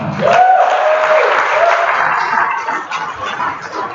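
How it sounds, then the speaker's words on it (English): An evening audience breaks into applause, a dense wash of clapping with a few whoops, steady and loud for four seconds before thinning slightly. "Give yourself a round of applause."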